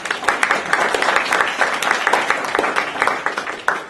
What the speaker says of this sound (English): So a round of applause for our speakers, please.